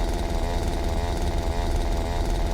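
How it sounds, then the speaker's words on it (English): A zombie's chainsaw from the Game Guru zombie video game runs steadily and loud throughout, its engine buzzing continuously with a slight rhythmic wobble and no talk. "It's this guy's chainsaw."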